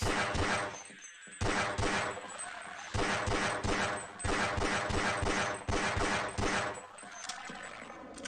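Rapid gunfire from Half-Life, bursts of repeated shots against zombies and headcrabs, loud and dense with a brief lull near the start, then steady volleys continuing to the end.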